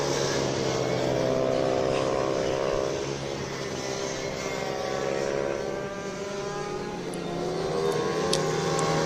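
160cc minibike racing motorcycles passing on a circuit, a loud continuous high engine whine with shifting pitch as several bikes sweep past at a distance, no talking.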